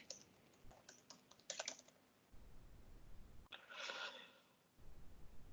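Typing on a computer keyboard: faint clusters of quick key clicks in short bursts, quiet and close, with soft breathing between them.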